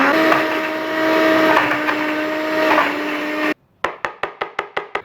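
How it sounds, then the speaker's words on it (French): A kitchen blender whirs steadily while processing peeled, roughly chopped butternut squash, then cuts off into a run of short sharp knocks, as if the jar is tapped to settle the contents. "On vient le mixer."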